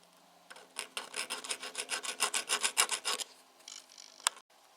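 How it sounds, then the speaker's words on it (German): Brisk back-and-forth brushing of metal chips off a steel part machined on a mini milling machine, about a dozen quick rhythmic scrubbing strokes close up, then a few lighter swipes and a faint tap. "Zum genauen Messen mache ich erstmal die Späne weg."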